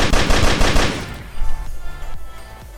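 Rapid automatic gunfire from a gun with no recoil in a video game, a loud close burst of shots for about a second followed by a few scattered single shots.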